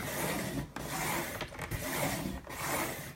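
A paper trimmer's blade scoring cardstock for an Easter bunny bag, a close continuous rubbing scrape that runs in several long strokes with brief breaks between them.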